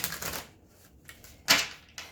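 Quick papery riffles and soft card slaps of tarot cards being shuffled, close by, a flurry at the start and a sharper snap later.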